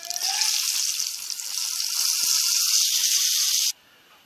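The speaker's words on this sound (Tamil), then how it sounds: "தாளிக்கிறதுக்கு கடுகு உளுத்தம் பருப்பு கருவேப்பிள்ளையை போட்டு தாளிச்சிடலாம்" Steady loud sizzling of mustard seeds, urad dal and curry leaves popping and crackling in hot oil while tempering, continuous for several seconds before cutting off abruptly.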